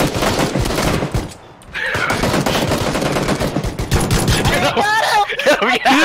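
Pistol gunfire in the battle royale game PlayerUnknown's Battlegrounds, dense loud shots and impacts over busy game noise, with excited players talking throughout.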